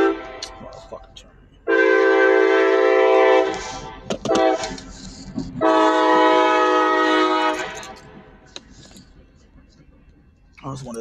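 A train horn sounds two long, loud blasts, each lasting about two seconds with a short gap between, over the low rumble of the passing train.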